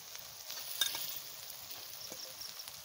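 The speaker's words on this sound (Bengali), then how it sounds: "ডিমের সাথে আমি ভালো করে কষাই নিচ্ছি।" Eggs frying in a pan with turmeric for egg biryani, a faint steady sizzle with light stirring scrapes throughout.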